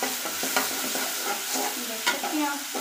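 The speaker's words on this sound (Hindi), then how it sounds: "इसमें डालना एक चम्मच लहसुन अदरक की पेस्ट डाल देंगे," Ginger-garlic paste sizzles in a pan with browned onions, a steady hiss broken by a few scraping stirs of a spoon, close and alone without voices.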